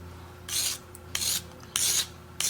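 Sandpaper of 240 grit wrapped on a stick rasps against a handmade pendant, rounding off its rough edge in four firm, even strokes, close and alone.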